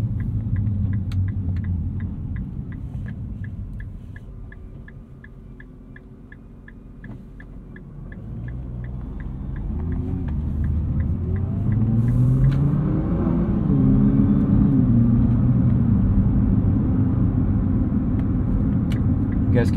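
Steady low tire roar and road rumble inside a 2023 Nissan GT-R Premium driven in comfort suspension mode, a droning hum that swells as speed builds, with a faint repeating ticking above it.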